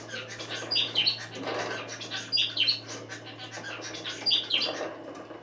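A pet canary chirps close by in repeated bright bursts of tweets, with a low steady hum underneath and no talking.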